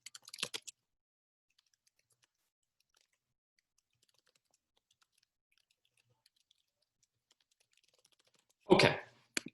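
Typing on a computer keyboard during a sociological research methods lecture, a quick burst of faint keystrokes at the start, long quiet, then a louder clattering burst near the end.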